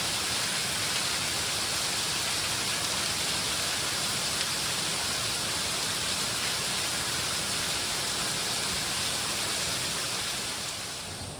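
Rain falls outdoors over a garden of trellised boysenberry canes as a steady, even hiss that holds at the same level throughout, with no voices.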